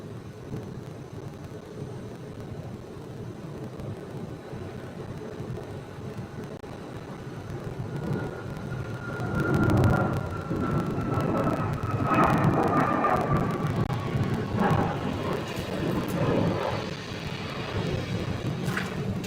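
Southwest Airlines jet airliner departing Phoenix airport, a steady broad roar that swells louder midway, with a rising whine that climbs and fades as the jet passes, alone without talk.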